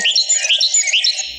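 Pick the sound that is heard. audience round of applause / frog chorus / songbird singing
songbird singing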